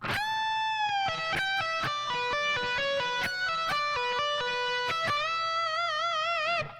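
A distorted electric guitar plays the fast section of a song's solo, a fast run of picked notes and bends, finishing on a held note with wide vibrato.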